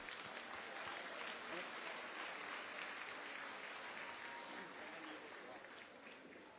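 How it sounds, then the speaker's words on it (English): A large festival audience at a Pacific heritage dance event applauds the dance groups, a sustained, fairly distant wash of clapping that tapers slightly toward the end, with crowd murmur mixed in. "Mahalo, another round of applause."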